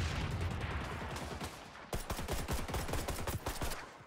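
Rapid automatic gunfire from the video game XDefiant rattles loud and continuous, with dense bursts of shots that grow sharper and more distinct in the second half.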